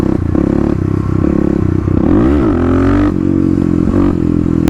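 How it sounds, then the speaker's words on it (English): A Harley Street Rod 750 engine revs hard during a wheelie, a loud, close, rough exhaust drone that rises and falls in pitch with the throttle, with a little mechanical clatter. "There we go, getting the wheel up now"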